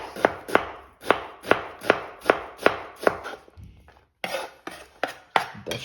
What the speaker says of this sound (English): That's how we finally chop some onion